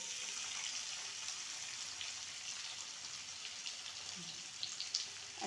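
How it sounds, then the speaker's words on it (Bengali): Potatoes frying in oil with a little salt for a home-style chicken chorchori, a steady soft hiss and crackle of sizzling that stays even and fairly quiet throughout. "আলুগুলো লাল লাল করে ভেজে নেব।"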